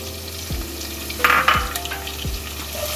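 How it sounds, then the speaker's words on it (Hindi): Chopped onion frying in oil in a pan for tinda sabzi, a loud continuous sizzle with a few low thumps and a brief metallic scrape of stirring. "और प्याज को फ्राई कर लें हल्का सा।"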